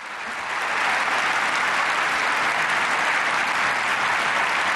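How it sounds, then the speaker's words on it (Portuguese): Sustained standing-ovation applause from the German parliament, building quickly and holding steady as dense, loud clapping throughout. "Volodymyr Zelensky foi aplaudido de pé pelo parlamento alemão."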